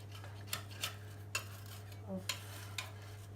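A metal knife scrapes and clinks against a baking tray while lifting off custard tarts, about six sharp separate taps and scrapes spaced apart over a steady low hum, close and quiet.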